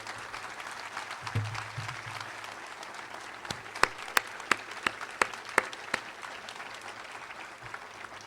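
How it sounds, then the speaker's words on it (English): A press conference audience applauds steadily for several seconds, dense clapping near and far with a few loud individual claps standing out, no talking over it. "please give them just a great round of applause."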